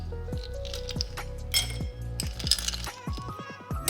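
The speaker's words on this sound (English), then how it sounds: "Add mint and lemon and add rest of the ice cubes." Ice cubes drop one after another into a glass holding mint leaves and lemon for a virgin mojito, giving a string of close, bright clinks and knocks.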